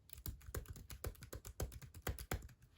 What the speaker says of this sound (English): I'm gonna just make some typing noises here.